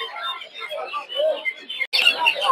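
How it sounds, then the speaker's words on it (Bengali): Many quail chirp together at a Bangladeshi poultry market, a dense, continuous flock of small high tweets and calls, fairly close and loud, briefly cut by a short gap before resuming. "এই জায়গায় অনেকগুলো কোয়েল পাখি।"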